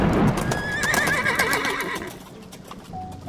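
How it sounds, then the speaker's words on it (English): A horse gives a loud, close whinny that rises and wavers, while hooves clip-clop beneath it before the sound fades out. "A horse, a pale horse."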